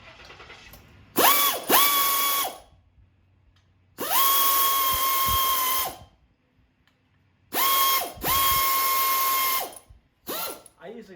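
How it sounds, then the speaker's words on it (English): A pneumatic air ratchet spins 9/16 bolts while mounting an A/C compressor on a 1971 Monte Carlo SS, in three loud whirring bursts of one to two seconds each, separated by quiet pauses and ending with a short final blip. "I don't know if I have any air left in my air ratchet"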